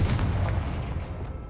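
Confringo blasting spell explosion from the Hogwarts Legacy video game, a loud low-heavy boom with a rumbling burst that decays steadily over about a second and a half, no voices.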